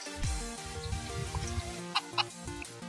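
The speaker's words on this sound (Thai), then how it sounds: "โอ้วันนี้เจ้าไก่มีตัวเดียว ถ้ามีคู่นี่จะเอาไป ทำฟาร์มเลยนะเนี่ยนะผม" A chicken in the Minecraft video game clucks softly a few times, faint and close, over quiet background game music.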